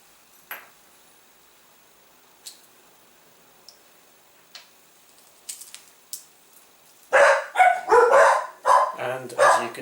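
A dog barks in a loud, close cluster of several rapid woofs near the end, after a quiet stretch broken by faint scattered ticks and clicks.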